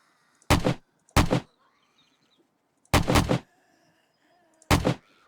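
Rifle gunfire in the video game 7 Days to Die, alpha 17, fired as four loud, sharp shots in irregular pairs, each with a short ringing tail, and quiet gaps between them.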